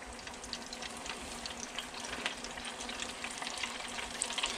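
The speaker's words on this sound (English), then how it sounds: "So now we are sitting here frying our fish." Gafftopsail catfish sizzles and crackles in hot oil, a dense continuous frying hiss with small pops, close up and without voices.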